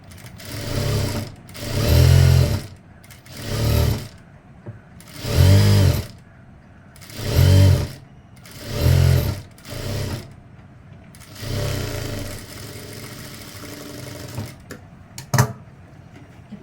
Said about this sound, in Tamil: இது பேக்கு தான் நான் ஸ்டிச் பண்ணிகிட்ருக்கேன்.